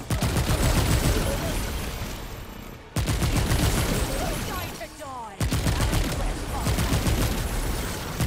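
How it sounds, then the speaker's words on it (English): Rapid bursts of gunfire in the video game Remnant 2, loud sustained volleys broken by two brief pauses, with a voice partly buried under the shots. "Can you not dodge my bullets"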